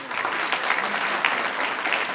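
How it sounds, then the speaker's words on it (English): A crowded hall at the 2018 KAIST ONE event in Saudi Arabia gives organizers a full, even round of applause, continuous and loud throughout with no speech. "please give a big round of applause in thanking all those lovely people who helped contribute to organizing this event"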